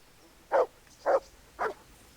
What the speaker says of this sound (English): There's the good dog.